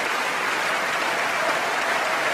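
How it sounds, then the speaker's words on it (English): Concert audience applause at the BBC Proms for a mezzo-soprano returning to the stage, a dense, steady wash of clapping from a large crowd, continuous and even throughout. "Alice Coote's coming back to receive another round of applause"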